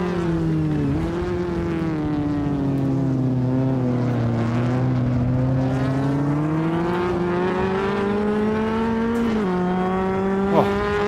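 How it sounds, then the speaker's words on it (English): A race car engine in a racing video game drones steadily at high revs, its pitch sliding up and down through a hairpin section; the loud, close sound runs alone without speech. "I can just about hear my own car."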